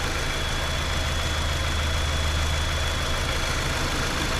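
2021 Subaru Crosstrek engine idling, a smooth, steady low hum with a faint high whine, close and continuous with no talking.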